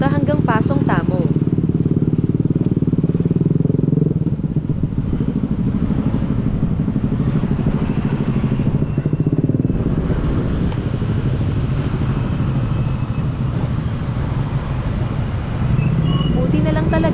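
Motorcycle riding slowly through road traffic, its steady engine drone loud and close throughout, with a person talking over it the whole time.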